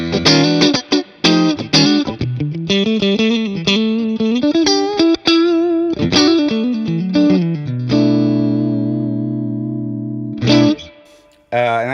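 Fender Stratocaster on the neck-and-middle pickup setting through a Sonicake Pocket Master with plate reverb gives a clean, edge-of-breakup tone: plucked notes and chords ring out, a chord is held and decays, then a final strum fades.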